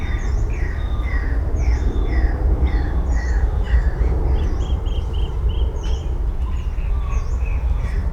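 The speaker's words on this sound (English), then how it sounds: "What are those noises? That felt like a frog bird. Like a frog that could fly." Repeated croaking, froglike bird calls ring out in short bursts over a steady, dense outdoor rumble. The calls come at a fairly regular pace throughout, with no talking.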